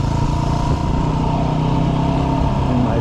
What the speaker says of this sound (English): First gear engine braking mode.